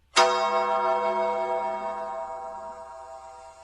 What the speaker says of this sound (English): Did you mean this bell?